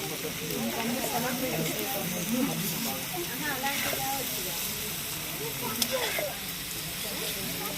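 Mutton pieces frying in a pan for a village-style dish, giving a steady close sizzle and hiss throughout with a few crackles and light stirring clatter, while voices are heard talking over it.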